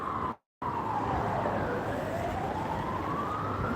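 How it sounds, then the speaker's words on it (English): Siren sweeping slowly up and down in pitch, loud and continuous over a steady traffic rumble, cut by a brief dropout near the start. "The ambulance is not for you"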